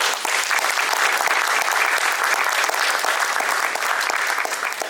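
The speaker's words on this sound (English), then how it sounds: "So can we have one more round of applause?" Dense, steady applause from an audience at a mental health fair keynote, loud and continuous throughout with no break.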